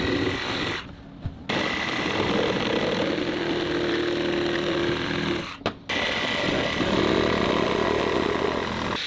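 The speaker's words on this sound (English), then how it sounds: "The extra wood along the side of the roof is being trimmed and leveled with a chainsaw" A chainsaw trims and levels extra wood along the side of a wooden house roof, a loud continuous engine roar broken by two brief gaps.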